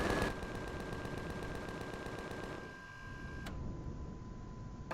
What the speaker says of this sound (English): I do think the orbital station is firing at me. But it's just those little assault turrets